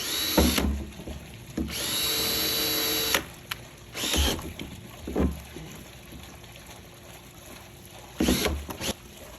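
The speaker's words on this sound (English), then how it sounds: "And then you drill the hole." A power drill whines in several bursts drilling holes in a rain barrel, one long steady run followed by shorter spurts, with clatter and handling noises in between.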